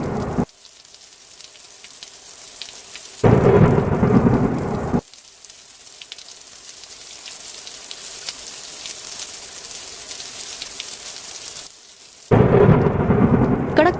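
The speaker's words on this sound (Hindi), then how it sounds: "अंधेरी रात में आसमान में बिजली की गड़गड़ाहट के साथ तेज बारिश" Heavy rain pouring steadily through a dark night, broken by two loud, booming thunder crashes, one early and one near the end, with no voices.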